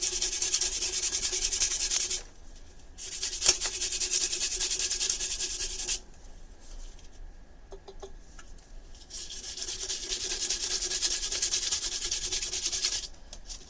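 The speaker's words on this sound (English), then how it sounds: "Let's try sanding" Styrofoam pieces glued together with dissolved styrofoam being sanded by hand, giving steady, close abrasive rubbing in long strokes with a few brief pauses between passes.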